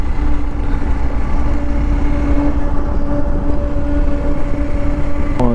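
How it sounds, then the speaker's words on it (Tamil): A Hero Xpulse motorcycle with an oil leakage issue runs steadily, its engine producing a close, constant droning hum with a faint whine that rises slightly near the end, with no talking. "ஸோ வண்டியோட இன்ஜின் சவுண்டு கூட"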